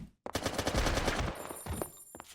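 A video game gun fires a rapid automatic burst, loud and close, after a brief silent start, with a few scattered shots trailing off at the end.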